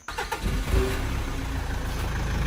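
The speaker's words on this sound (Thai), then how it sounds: "งั้นเดี๋ยวเรามาลองฟังเสียงเครื่องกันครับ" A Mitsubishi car engine cranks and catches, then settles into a steady, rumbling idle close by.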